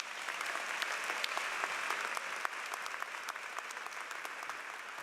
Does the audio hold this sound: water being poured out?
no